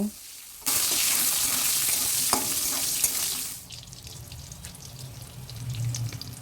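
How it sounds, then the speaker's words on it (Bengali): Long strips of eggplant drop into hot oil, setting off a loud, close sizzle for about three seconds that then eases into quieter frying and stirring, with no talk. "বেগুনগুলোও তেলের মধ্যে ভেজে নেব"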